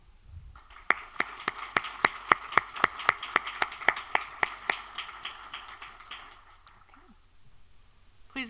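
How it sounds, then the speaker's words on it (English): Sparse, distinct claps at a university induction ceremony, a dozen or so sharp hand strikes in a slow, fairly regular rhythm over a quiet room murmur, fading out before the end. "Please give one more round of applause for all of our student inductees."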